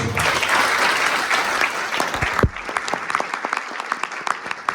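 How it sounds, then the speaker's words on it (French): A crowd at a large trading event in Paris claps for a presenter: a full burst of applause for a couple of seconds that thins into scattered, separate claps. "On peut l'applaudir."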